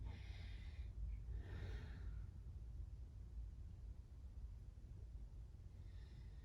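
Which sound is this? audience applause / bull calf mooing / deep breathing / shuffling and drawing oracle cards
deep breathing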